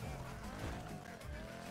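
Car tires skid and squeal in the Need for Speed Heat racing game, a steady loud roar of a powerful engine with screeching rubber running throughout, with no talking over it.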